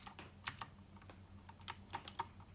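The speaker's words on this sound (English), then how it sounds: "And it's connected, so I have been typing the whole time" Keys clacking on an Obins Anne Pro wireless RGB mechanical keyboard, a quiet irregular run of sharp taps in small bursts, close up with no voices.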